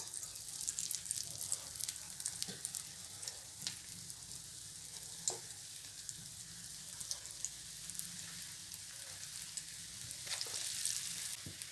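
Cowpea bonda batter drops into hot oil for deep frying, a soft, fairly faint bubbling sizzle that runs steadily throughout with scattered small pops and no talk.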